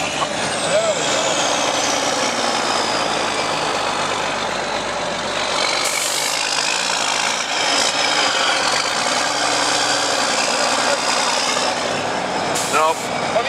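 A log truck reversing slowly, with a loud steady engine drone, whining gear tones and a couple of short hissing air bursts, while a voice talks over it.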